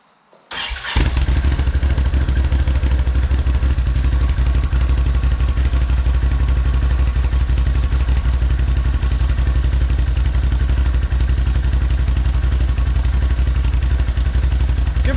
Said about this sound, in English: Start her up, Scott.